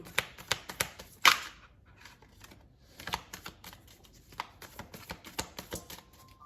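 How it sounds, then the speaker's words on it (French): A small pet tortoise waking from hibernation and scratching: rapid, irregular clicking and scraping taps, close and fairly crisp, in bursts with short pauses, no speech. "la petite tortue se réveille. Vous entendez gratter"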